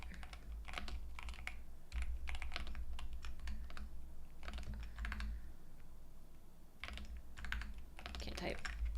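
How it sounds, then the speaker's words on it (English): Quick bursts of computer keyboard typing clatter close by, with short pauses between runs of keystrokes over a low background hum. "my typing is so embarrassing today"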